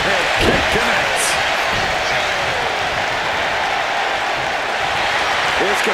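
Dense wrestling arena crowd in WWE 2K25 roaring and applauding at full capacity, a steady loud wash of cheers with occasional thuds, under commentator talk.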